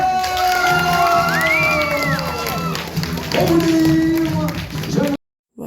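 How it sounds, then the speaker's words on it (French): A village festival crowd applauds and cheers after a dance show, clapping and shouting mixed with children's voices and talk before cutting off abruptly. "Et on les applaudit très très très fort."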